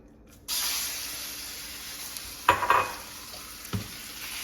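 Olive oil hisses in a hot pan, a bright sizzle starting abruptly after a brief quiet moment and holding steady, with a louder spitting burst midway and another short crackle later; close and loud, no talking.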